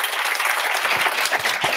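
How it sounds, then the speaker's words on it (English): Audience at a Python meetup talk giving a short burst of steady, dense applause, close and fairly loud. "Big applause."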